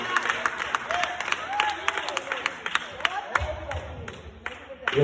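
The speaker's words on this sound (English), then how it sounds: "Give the Lord a hand clap of praise for the Lord." A church congregation claps in praise, with sharp, irregular hand claps scattered across the clip under singing and voices, some claps close and loud.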